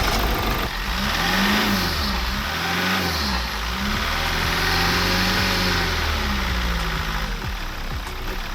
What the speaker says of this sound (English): Rev it up, get rid of the remaining air in the system.